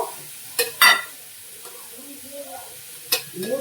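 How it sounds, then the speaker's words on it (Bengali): Turmeric stirred into a hot pan gives a low, close sizzle punctuated by a few sharp scraping and clanking strokes of the spoon against the pan, while a voice talks briefly in between. "হলুদ দিলাম আবার নেড়ে নিলাম"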